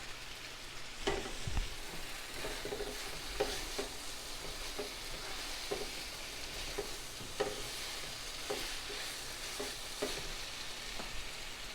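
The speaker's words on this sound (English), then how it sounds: "Give it a good stir." Chicken fajitas sprinkled with kosher salt are stirred in a hot pan, giving a continuous close sizzle punctuated by regular scraping and knocking of the utensil against the pan.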